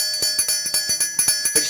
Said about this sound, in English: at break time you're going to hear Tinkle Bell